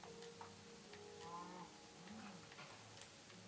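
Cow mooing in Minecraft, the game's low bovine call sounding in short repeated lowing tones over a steady background, with no talking.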